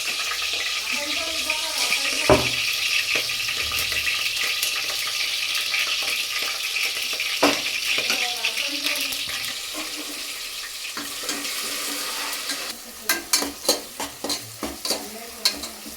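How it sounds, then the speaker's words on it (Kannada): Spices tempering in hot oil in a pan for festival pulao: a steady, close sizzle and stir, with a few sharp clatters and, near the end, a run of short bursts. "ಲಾಸ್ಟಿಗೆ ಹೋಗಿ ಒಗ್ಗರಣೆ ಹಾಕ್ತಾಯಿದ್ಲು"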